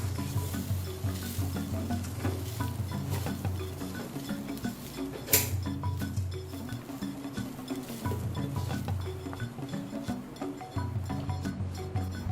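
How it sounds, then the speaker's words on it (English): Basmati rice with vegetables and roasted masala being stirred in a pan, with a continuous low sizzle, scraping spoon strokes and an occasional clink of utensils against the pan. "Stir until everything is combined well and then turn off the flame."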